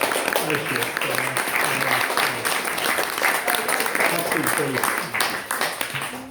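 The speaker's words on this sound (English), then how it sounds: "Can everyone give her a round of applause?" Audience applause at a book launch at the Manchester House of Books & Friends, a broad, steady wash of clapping filling the room throughout while a voice carries on over it.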